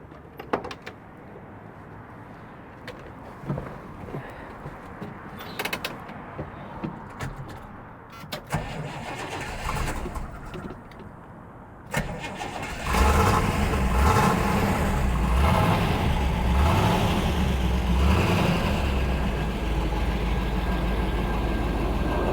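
A Chevrolet Nova, a Yenko Deuce clone, sits quiet with faint clicks and rustling before its engine fires about halfway through and settles into a loud, lumpy, rumbling idle.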